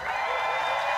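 A large crowd cheers and applauds in a steady, dense wash of noise just before play begins in a beach volleyball final in Hamburg, loud and continuous for about a second.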